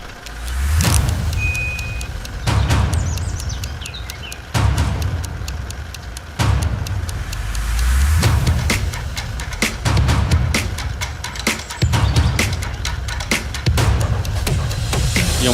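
A car drives along with a toilet installed on its roof, its road noise steady and loud, broken every couple of seconds by repeated low thumps and rattling bursts.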